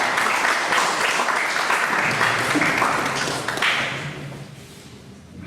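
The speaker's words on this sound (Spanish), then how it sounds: "brindándole nuevamente un fuerte y merecido aplauso" Sustained applause from an audience at an academic event honouring a doctor, steady dense clapping that gradually thins toward the end.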